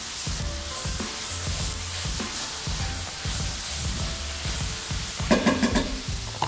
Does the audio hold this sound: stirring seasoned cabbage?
yes